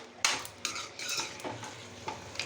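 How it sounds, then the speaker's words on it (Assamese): Local chicken fries with tomatoes in a pan, stirred with a metal spoon that scrapes and clinks several times over a soft sizzle, close up and without speech. "এতিয়া মই বিলাহীৰ সৈতে এই মাংসখিনি আৰু 5-10 মিনিট ধুনীয়াকৈ ভাজি ল'ম।"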